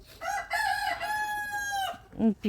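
A grey Barbezieux rooster crows one long, loud call held for nearly two seconds, followed by a couple of short clucks.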